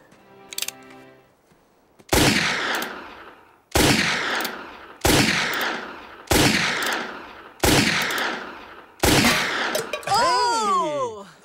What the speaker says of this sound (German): dann werde ich jetzt eine volle Ladung auf deine Dose schießen